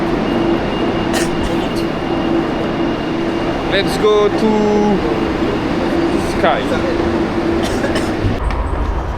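A metro tram ride in Valencia, with a steady rumbling hum of the moving carriage, squeals and clicks from the rails, and people talking over it throughout.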